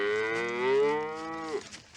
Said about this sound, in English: Are they gonna throw the cow?